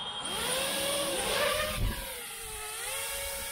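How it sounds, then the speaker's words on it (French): FPV drone motors spool up into a steady high-pitched whine as the drone takes off, the pitch rising and wavering in smooth sweeps, close and continuous throughout. "vous entendez ce petit bruit strident bien caractéristique du drone FPV qui décolle"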